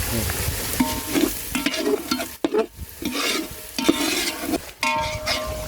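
Snail biryani with garam masala is stirred in a pot, giving a busy run of scraping and clanking strokes over a constant frying sizzle, heard up close with no talk.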